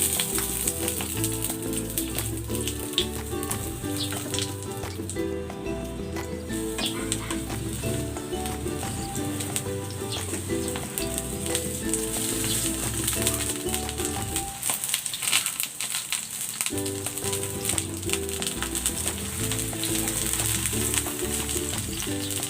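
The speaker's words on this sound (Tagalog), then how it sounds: "Piprito ko itong talong." Eggplant frying in cooking oil, a steady close sizzle running throughout beneath tonal background music.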